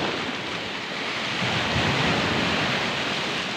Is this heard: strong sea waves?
yes